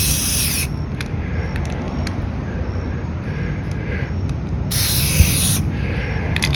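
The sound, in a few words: spray paint can spraying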